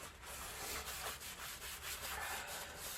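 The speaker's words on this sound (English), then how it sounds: "Let's give that a wipe over." Cloth wiping a vinyl chalkboard sign surface with rubbing alcohol, a soft steady rubbing with repeated strokes, faint and close, with no talk.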